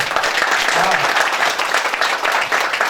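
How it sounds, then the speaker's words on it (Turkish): Sustained applause from a concert audience at a Crimean Tatar music night, dense and steady for the whole stretch, with a brief voice rising over the clapping near the middle. "bir alkış"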